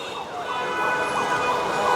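An ambulance siren wails steadily amid road traffic at a street protest, a continuous warbling tone over a dense, noisy background of vehicles and crowd.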